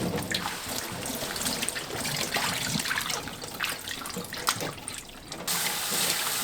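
Running tap water pours steadily into a sink while pumpkin leaves are rinsed under it, a continuous close splashing rush with small shifts in tone as the leaves move through the stream, stopping briefly before resuming.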